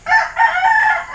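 A Gilmore hen, a broody laying hen, gives a loud, close, drawn-out clucking call in two connected bursts, heard alone without talk.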